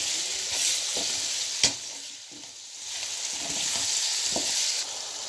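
Tomatoes fry and get stirred into an aloo gobi masala of potatoes and cauliflower, a steady loud sizzle with occasional scraping stirs and a sharp clack of the spoon, no talking.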